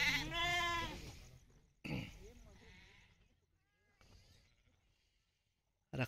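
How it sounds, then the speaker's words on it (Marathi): A large male goat bleats loudly up close, one long wavering call followed by a couple of shorter, quieter bleats with pauses in between. "इथे बकरा आहे बघा किती मोठा आहे"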